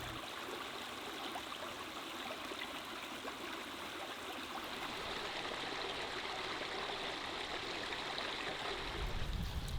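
A forest stream in Morgan Monroe State Forest flows in a steady, close, full rush of water that stays even throughout, with no voices.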